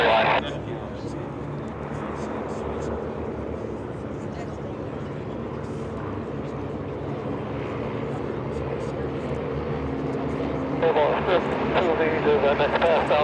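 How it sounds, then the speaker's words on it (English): A formation of six Chipmunk aircraft passing overhead, propeller engines droning steadily and swelling slightly near the end, with people talking over the engine noise throughout. "Here is one more pass of our Chipmunk formation from the right."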